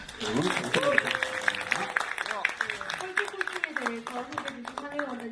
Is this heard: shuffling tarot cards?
no